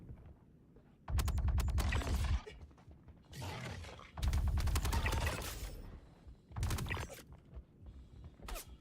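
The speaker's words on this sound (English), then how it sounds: "This gun's crazy. It's got so much recoil." Video game gun with heavy recoil fires several loud close bursts of rapid shots separated by short gaps, with mechanical clatter between bursts and no voices.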